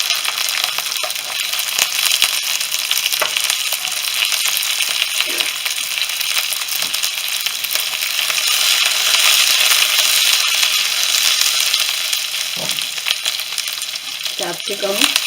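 Square-cut onions for chicken Manchurian sautéing in a pan, a loud continuous close-up sizzle with occasional stirring scrapes and light clinks, no voices.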